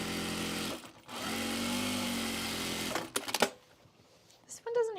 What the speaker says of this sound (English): we'll top stitch this